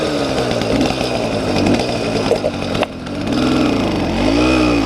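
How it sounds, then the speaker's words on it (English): A Dio scooter two-stroke engine fitted with a YD100 reed starts and runs, a loud buzzing idle that rises and falls through several throttle blips, close and steady for the whole stretch with no talking. "So let me start it up and we can hear it."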